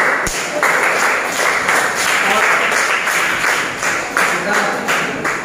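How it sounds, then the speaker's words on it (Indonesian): Classroom applause during a mathematics lesson: a short round of rhythmic clapping in bursts, close and moderately loud, with a faint voice underneath. "Tepuk tangan."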